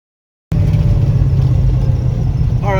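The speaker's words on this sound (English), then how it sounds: "we're driving down the darkest road I can find" A car drives down a dark road at night, producing a steady loud low engine and road rumble heard from inside the cabin. It starts abruptly after a moment of silence and holds constant with no talking.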